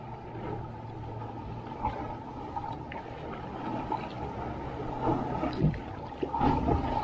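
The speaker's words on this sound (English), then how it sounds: "Sound of the water like lapping against the cliffs." Water laps against sea cliffs around a kayak in Ladram Bay, a soft, continuous wash and slosh with a few small splashes rising near the end, close and steady with no talking.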